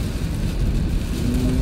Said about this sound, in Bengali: প্রচুর বৃষ্টি ত্রিপুরে, হ্যাঁ ভাই, ফাড়াই বৃষ্টি দিতেছে